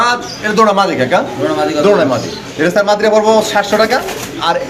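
Beauty pigeons coo in repeated throaty, rolling calls, close and fairly loud, several bouts overlapping through the stretch.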